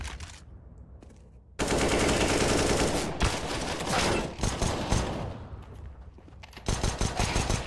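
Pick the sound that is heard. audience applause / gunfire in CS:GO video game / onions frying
gunfire in CS:GO video game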